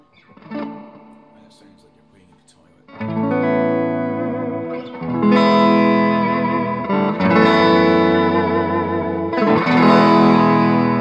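An electric guitar plays chords through a Roland Cube 80X amp with its spring reverb set about halfway, notes ringing and washing out in a splashy, lingering, wobbly tail.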